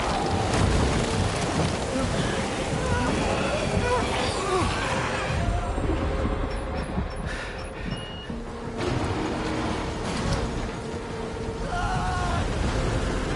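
Heavy rain pours steadily in a video game thunderstorm, with rumbles of thunder and gusting wind rolling beneath it, while a person talks over the storm.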